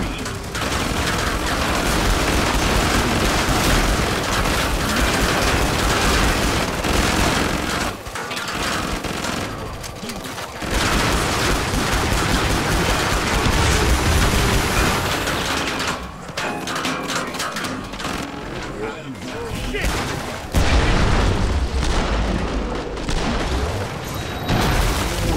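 Dense, loud gunfire from the shooter game Killing Floor 2: rapid automatic bursts and heavy booms run almost nonstop, with brief lulls between volleys.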